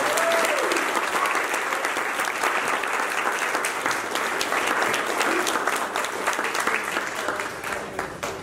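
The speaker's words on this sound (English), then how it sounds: "Let's give another round of applause." An audience gives sustained applause after a Christmas church musical. The clapping is dense and steady and fades slightly toward the end.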